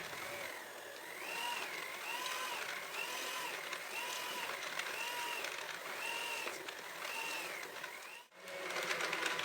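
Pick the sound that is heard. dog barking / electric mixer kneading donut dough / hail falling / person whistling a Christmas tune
electric mixer kneading donut dough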